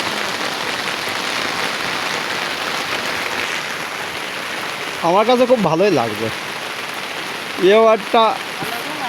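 Steady rain pours down during outdoor cooking on a rooftop, a loud even hiss of drops throughout, with someone speaking in two short stretches over it.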